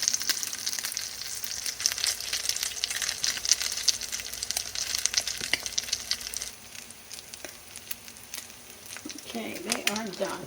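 Fish frying in a hot pan gives a steady, bright sizzle with crackles and spits throughout, easing slightly toward the end, where a few soft clatters come through nearby.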